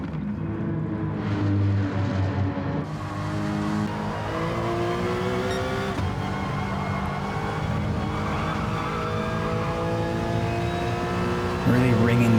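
Race car engine in Gran Turismo Sport, driven hard around the Nürburgring in an FIA race, revving high and steady with rising and falling pitch through gear changes, loud throughout.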